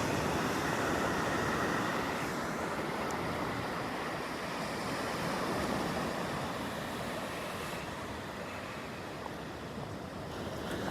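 Ocean surf rolling onto the beach at Pawleys Island, a continuous broad roar of breaking waves with wind buffeting the microphone, steady and close throughout with no talking.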